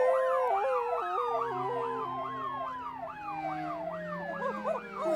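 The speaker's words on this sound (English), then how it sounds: "I can't hear anything when my siren's blaring." A cartoon police car siren wails loudly in a rising and falling two-tone pattern, repeating steadily over a faint low background with no talking.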